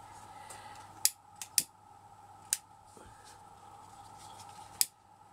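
Scissors make a few sharp, close snips while trimming ribbon for a shabby-chic wedding bow, with about five isolated cuts spread across a quiet room background.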